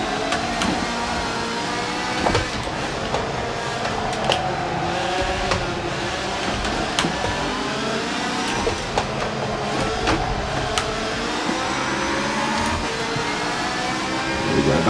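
Ferrari race cars at Miami Homestead speed past on track, producing continuous engine roar with rising and falling revs and repeated passes that stay fairly steady in loudness, with no talking.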